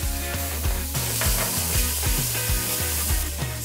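Onions, garlic and tomato paste sautéing in a pot over medium heat, a close sizzle broken by regular scraping stirs of a spoon at a steady rhythm, no talking.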